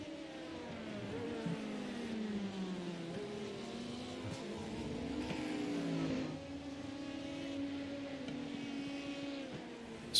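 Prototype race car in iRacing at Hockenheimring screams past, a steady high engine note rising and falling through gear changes and Doppler sweeps, fairly faint and heard alone.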